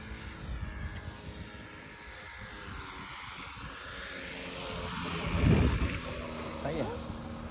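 A methanol-fuelled balsa fixed-wing model airplane comes in to land, its small propeller engine droning and shifting pitch at a middle distance while people talk nearby, with a thump near the end.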